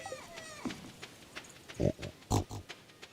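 Pigs on a video game farm give several short grunting oinks, a few louder bursts standing out over a faint game background.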